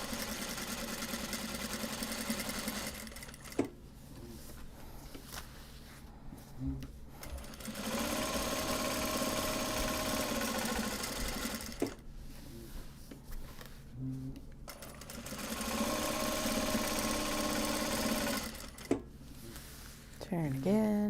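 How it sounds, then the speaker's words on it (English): A sewing machine stitches a fabric card holder in several bursts of steady whirring, stopping at pauses between seams, while people talk quietly throughout. "Back 1 stitch, turn, and stitch again."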